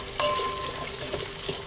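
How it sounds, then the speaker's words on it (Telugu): Thinly sliced large onion with a little salt sizzles in hot oil for egg biryani, a soft steady frying hiss with a few faint stirring clicks, close and alone. "పెద్ద ఉల్లిపాయ ఒకటి సన్నగా కట్ చేసి పెట్టుకున్నాను, ఇది కూడా ఇందులో వేసేద్దాం. ఎర్రగా ఫ్రై అవనిద్దాము."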